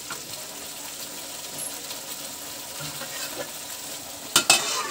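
Tadka tempering for home-made dal palak gently frying in hot oil, a steady soft sizzle with faint stirring, ending in a few sharp metallic clinks of a utensil.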